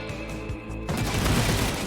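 Automatic weapon fire in the action video game God's Trigger breaks out partway through, with rapid, dense shots rattling on continuously after a quieter opening.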